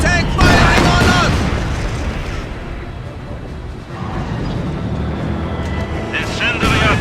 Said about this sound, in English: Enemy tank firing on us!